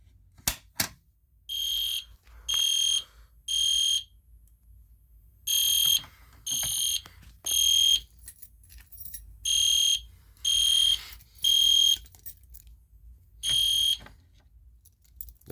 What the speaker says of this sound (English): So the Gentex Commander 3 is next to my EST Genesis horn strobe.